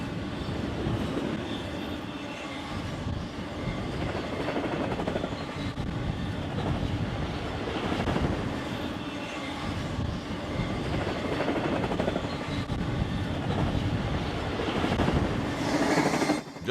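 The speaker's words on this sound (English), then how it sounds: "we catch this KC-bound trailer on flat car train blasting by the old Santa Fe depot" A BNSF freight train of trailers on flatcars roars past close by the old Santa Fe depot on the Marceline mainline, a steady heavy rumble with rattling cars and wheel clatter filling the whole stretch.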